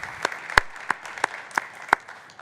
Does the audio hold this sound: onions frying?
no